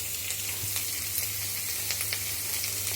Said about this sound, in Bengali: পেঁয়াজটা জলদি ফ্রাই হয়ে যাবে